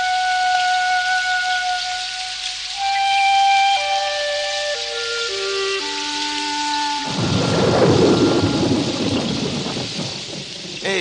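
A thunderstorm in an animated series: steady rain under a melodic music passage, then a loud, close roll of thunder rumbles in and fades over the continuing downpour.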